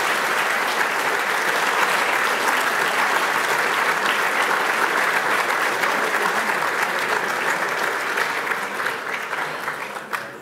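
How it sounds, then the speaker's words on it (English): A large audience at an ethnic business awards ceremony applauds dignitaries with a long, steady wash of dense clapping that holds strong for about ten seconds before tapering off at the end. "Would you please join me in a huge round of applause to welcome all of our wonderful dignitaries"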